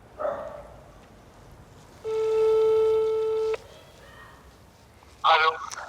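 Outgoing telephone call tone: one flat, steady ringback beep of about one and a half seconds, clear and fairly loud, with faint voices and brief noises before and after.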